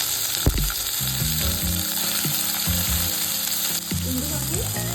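Large pieces of onion and two medium tomatoes fry in oil, giving a continuous close sizzle with a few soft clinks and low knocks of stirring, no speech.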